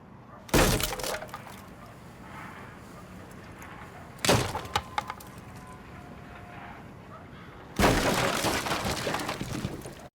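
Wooden barricade being smashed in the video game Rainbow Six Siege: three loud, sharp splintering crashes, each with a brief crackling tail, separated by stretches of low ambient noise.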